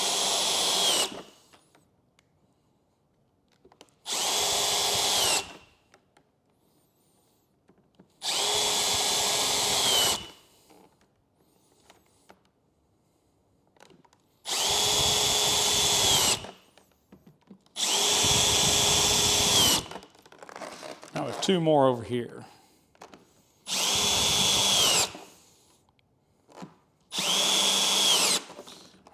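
A power drill bores holes through a Harley Davidson plastic fairing in seven separate bursts of a few seconds each, loud whining spin-ups separated by quiet pauses, with a brief spoken remark between drillings.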